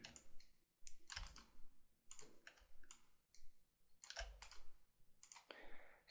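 Quiet computer mouse clicks while editing in Adobe Flash, a scattering of soft, crisp taps at an irregular pace, with brief gaps between them.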